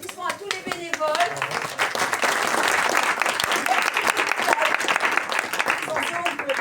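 Audience applause for festival volunteers at a theatre company's community festival, a steady wash of many hands clapping that swells quickly and holds loud and dense throughout, with some voices mixed into the crowd.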